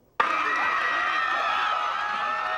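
A crowd at the Troy University Greek Week Games bursts suddenly into loud, sustained cheering and shouting that holds steady without a break.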